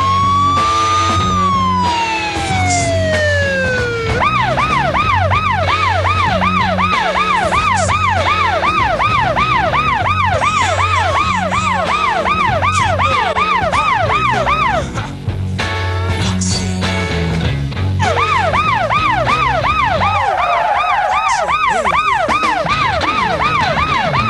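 An ambulance siren used as a sound effect in a comedy sketch wails loudly and up close, sliding through rising and falling cycles for most of the stretch, with a brief break in the middle before the wail returns.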